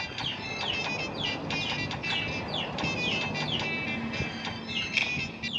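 Chickens cheeping and chirping in quick repeated calls throughout, fairly close, with a steady background hiss and no talking.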